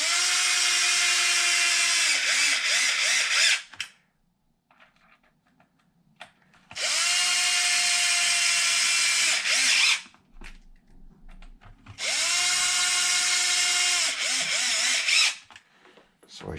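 A power drill drives screws into a Traxxas XRT RC truck in three sustained whirring bursts, each a few seconds long with brief quiet gaps between, close and loud.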